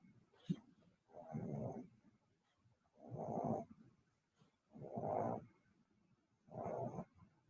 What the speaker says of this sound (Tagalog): Hilik pa more.